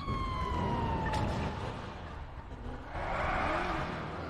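A wailing video game police siren in GTA 5 sweeps and fades, loud and close, with a brief electronic tone at the start and rising again near the end.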